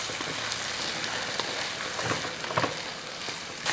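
Ivy gourd stir-frying in coconut oil for kovakka mezhukkupuratti, giving a steady close sizzle and crackle with occasional light stirring scrapes and no voices.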